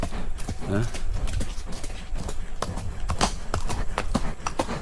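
Rapid, rhythmic clip-clop of horse hooves close by, sharp regular strikes running through the whole stretch, with a voice talking over them.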